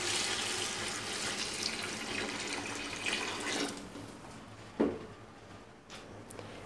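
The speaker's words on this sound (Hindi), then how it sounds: "तो इस स्टेज पर हम अब हम इसमें पानी शामिल कर देंगे।" Water poured from a vessel into a cooking pot of soaked rice and chicken for Punjabi chicken pulao, a steady broadband splashing rush for nearly four seconds that cuts off, followed by a brief clunk and quieter kitchen noise.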